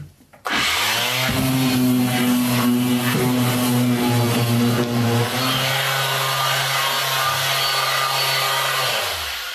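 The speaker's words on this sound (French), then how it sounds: "Petit coup de ponceuse vite fait." A power sander whirs steadily against wood while making climbing holds, a loud continuous grinding drone for several seconds that starts abruptly and runs without pause.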